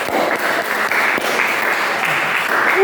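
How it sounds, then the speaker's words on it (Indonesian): Audience applause for two people at a student-led Christian fellowship gathering in Semarang, a steady dense patter of many hands clapping throughout, fairly loud and close. "Tepuk tangan untuk Grace dan Susan"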